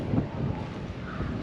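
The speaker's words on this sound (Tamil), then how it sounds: "செம்மையாக காற்றடிக்குது கைஸ்." Strong wind blows across the microphone along a path near a building, producing a steady, close, low rumbling buffet throughout with slight gusting swells and no speech.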